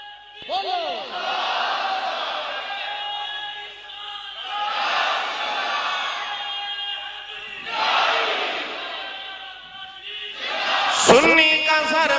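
A large crowd at an urs gathering shouts religious slogans in loud unison, with about four swelling collective chants separated by short pauses and voices leading between them.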